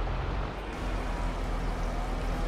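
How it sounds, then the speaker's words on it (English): A pump runs while a tank is refilled in Farming Simulator 22, a loud, steady, low mechanical drone that holds unbroken throughout. "I think I hear the pump going"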